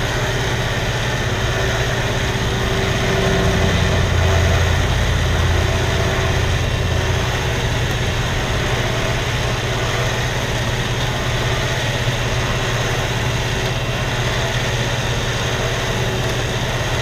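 A winch filled with QuantumCoat lubricant runs its cable out and back in, giving a steady low motor drone with continuous mechanical hum throughout, loud and close, with no speech.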